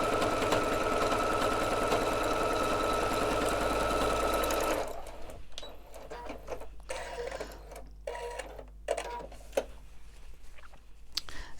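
A sewing machine stitches across the top edge of a Christmas stocking panel, running loud and steady at close range for about five seconds, then stopping and leaving only faint handling noise.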